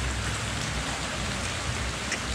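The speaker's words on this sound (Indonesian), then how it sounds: "di sini hujannya gede, nggak gede sih, cuman banyak" Steady, dense rain falls all around, a constant close hiss of many drops hitting surfaces, with no voices.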